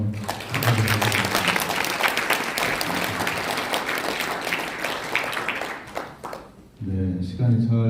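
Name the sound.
audience applause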